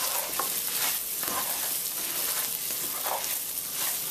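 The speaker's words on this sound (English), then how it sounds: "take our spatula and we're going to move this around" A spatula stirs risotto with portobello mushroom and spring onion around a hot pan, giving a steady broadband sizzle and frying hiss with soft scraping strokes repeating roughly every second, close and continuous.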